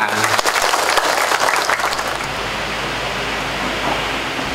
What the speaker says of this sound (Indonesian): Tepuk tangan untuk sekolah kita